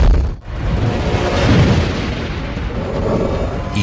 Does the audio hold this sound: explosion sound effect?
yes